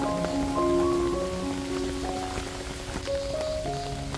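Rain falls steadily in a continuous soft hiss with scattered drop patters, heard throughout under a faint tonal hum of background music.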